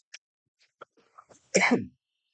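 A single harsh cough bursts out near the end, loud and close, after a few faint clicks and small throat noises in otherwise quiet surroundings.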